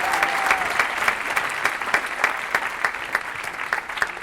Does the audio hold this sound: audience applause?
yes